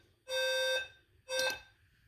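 A fire alarm panel plays its alarm tone through a built-in MP3 player: two loud, sustained electronic tones with bright harmonics, the first about half a second long and the second shorter, separated by a brief gap.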